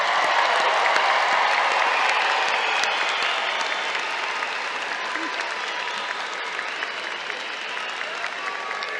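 Commencement crowd applauding college graduates at a liberal arts and sciences ceremony, loud sustained clapping from a large audience that slowly tapers in strength over several seconds.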